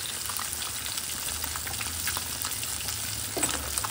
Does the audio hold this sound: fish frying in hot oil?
yes